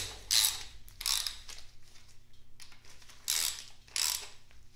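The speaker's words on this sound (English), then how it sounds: "Snug those bolts up." Bolts being snugged down on a Datsun Z engine during piston and cylinder head assembly, with a ratchet clicking in four short bursts separated by quiet pauses, close and fairly soft.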